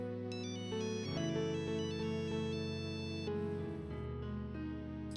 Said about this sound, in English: A ringtone could be heard nearby.